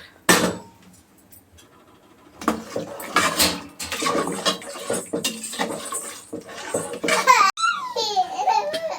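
A baby shouts and babbles in a home kitchen during cooking, with laughter-like vocal bursts and rising squeals close by, mixed with clinking pots and utensils.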